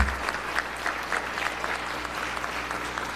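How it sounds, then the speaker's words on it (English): A room full of people in the Hawaii Senate chamber claps steadily for guests during a floor session, a dense even patter of applause with a low hum underneath. "We can have another round of applause for our guests."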